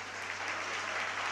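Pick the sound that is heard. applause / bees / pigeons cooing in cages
applause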